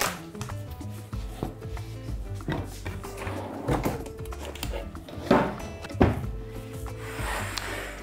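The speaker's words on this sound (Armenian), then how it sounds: "կտրատում ենք փոքր չափերի" Cauliflower being cut into small pieces on a cutting board for a pork tenderloin and cauliflower bake, a series of knife thumps against the board, some louder and sharper, with softer rubbing and handling noises between them.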